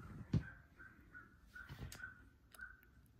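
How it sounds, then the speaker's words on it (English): Crows cawing outdoors, a few faint, distant calls spaced over a few seconds with quiet background noise between them. "It's birds."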